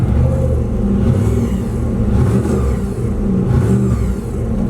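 A turbocharged LS-powered Camaro with a transmission fault idles and revs, a dense continuous engine rumble with a faint whirring layer running steadily throughout, close and loud with no talk.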